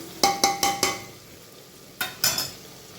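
A spoon stirs jaggery mixture in a pan for khichdi, with four quick scraping strokes in a row, a pause, then two more close, fairly loud strokes over a soft background.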